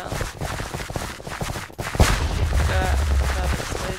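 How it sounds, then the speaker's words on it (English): Explosions go off in a Minecraft Clay Soldiers battle between red and yellow armies, a dense crackling barrage followed by a loud deep boom that keeps rumbling. "Another explosion."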